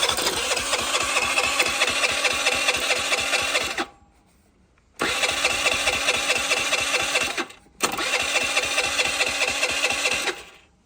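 A rebuilt scooter engine is cranked in three long bursts, each a rapid, raspy mechanical churning separated by short silences, close and loud with no catch.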